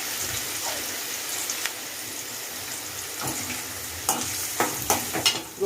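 Sliced big onions and curry leaves frying in oil, with a steady hissing sizzle throughout and a few sharper spatula scrapes and clatters near the end, close up.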